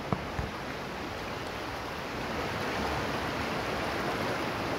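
A cold river flowing, a steady broadband rush of water that stays even and fairly soft throughout, with a couple of small knocks at the very start.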